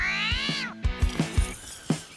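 A cat gives one drawn-out, rising-then-falling meow, followed by a few short thumps and clicks, close and clear with no talking.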